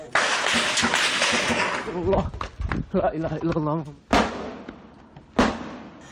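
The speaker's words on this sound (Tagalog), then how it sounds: "Umalingaw-ngaw ang mga putok sa bahaging ito ng tipo-tipo Basilan kaninang umaga" Gunshots ring out and echo over a town in Tipo-Tipo, Basilan, several sharp loud bursts with long reverberant tails, the last two isolated and spaced apart, mixed with a reporter speaking partway through.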